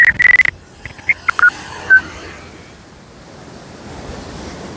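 Muthirapuzha river water rushing past near the Idukki power house in heavy rain, a steady broad roar heard after a few short electronic beeps at the start.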